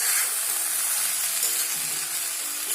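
Red lentils sizzle and fry in a pan with chopped banana stem, a bright steady crackle close by with light stirring scrapes and no talking.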